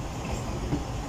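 A train rolls steadily past on the main line toward Multan in Pakistan, a low continuous rumble with faint rail clatter heard briefly and at moderate distance.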